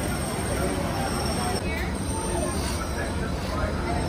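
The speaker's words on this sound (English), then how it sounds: "Welcome aboard the Disneyland monorail." Disneyland monorail train on its two-and-a-half mile run to Downtown Disney, a steady loud rumble of wheels and motor heard from inside the car, with faint passenger chatter underneath.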